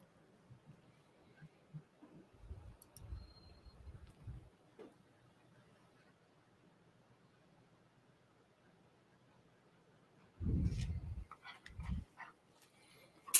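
Puppy whimpering and yipping in short bursts, faint at first and then louder near the end, with quiet room noise between.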